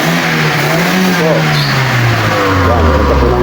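A carburetor car engine, freshly repaired, revs loudly through its exhaust in a close, continuous roar whose pitch slowly shifts as the throttle changes.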